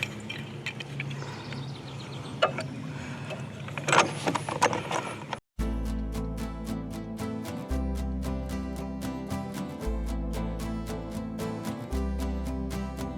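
Spare tire mount puck being twisted tight on a Winnebago Travato Promaster van, with rattling handling noises and then a steady run of rapid ratcheting clicks, close up, with no talking.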